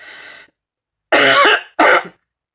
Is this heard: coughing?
yes